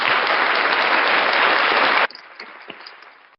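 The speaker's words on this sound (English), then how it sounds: "Give him a round of applause, ladies and gentlemen." Loud, dense applause from a crowd for about two seconds, then it cuts off abruptly, leaving a faint murmur of room noise.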